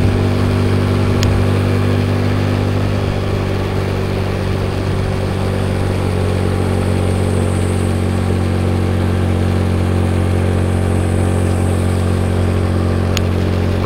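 Motorcycle engine drones steadily and loudly while riding, with a constant low hum and wind rush, close and unbroken throughout.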